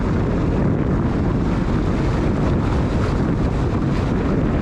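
A jet ski running on open water, heard as a loud, steady roar of engine, spray and wind buffeting the microphone throughout, with no clear rise in pitch.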